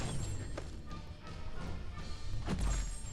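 Heavy attack impacts in the Marvel Contest of Champions fighting game, a few dull thuds and crashing hits spread across a steady, busy game soundtrack, moderately loud with the strongest blow near the end.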